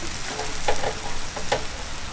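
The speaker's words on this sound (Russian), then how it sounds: "Теперь жарим наше любимое с Рифатом мясо." Lamb meat sizzles on a grill with a steady, crackling hiss that swells and eases, broken by a few sharper pops and spits of fat.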